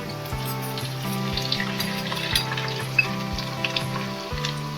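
Ginger-garlic paste hits a pan of browned fried onions, giving a steady close sizzle with a few light clinks and a low tonal hum underneath, no voices.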